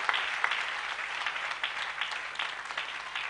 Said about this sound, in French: Give him a good clap offering.